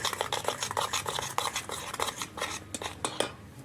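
A spoon scrapes and clinks against a bowl while soft naan puri dough batter with Eno is mixed, giving quick, uneven metallic taps and wet stirring sounds up close with no voices.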